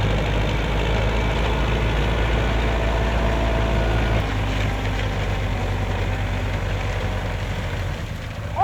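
A farm tractor engine idles with a steady, loud low rumble that holds constant throughout and drops slightly in level partway through, with no talk.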